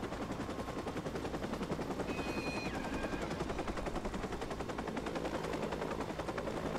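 A steady helicopter rotor chop from the video game Watch Dogs drones throughout, mixed with rapid bursts of gunfire, constant and fairly loud with no talking.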